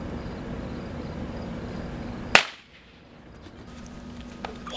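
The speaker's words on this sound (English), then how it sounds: "That was gunfire." One sharp, loud gunshot cracks out suddenly over a quiet background on Independence Day, then fades into near silence.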